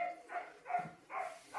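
A dog barks from a short distance at a rural Bulgarian house with an orchard, four quick, fairly faint barks in a steady rhythm.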